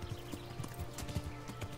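Rapid clopping of horse hooves in a steady rhythm, fairly close, with a low hum running underneath, from the video game Kingdom Come: Deliverance on PS4.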